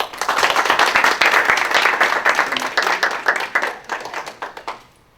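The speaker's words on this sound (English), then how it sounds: "So if you guys will make sure you give a good round of applause for them." A Toastmasters audience claps for its event coordinators, loud and close, with many hands beating in a bright, busy burst that holds for several seconds and then tapers off to quiet at the end.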